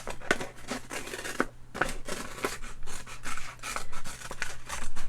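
Scissors snip through paper ephemera in a quick, irregular series of crisp cuts with soft rustling between them, close and fairly loud with no talk.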